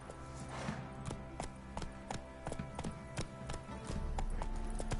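Roach, the horse in The Witcher 3, walks with clear, evenly spaced hoof clip-clops that sound fairly close, with a low background rumble underneath and no talk.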